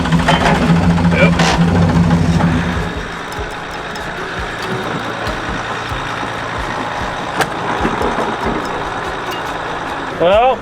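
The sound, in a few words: Jeep Gladiator engine idling after refuelling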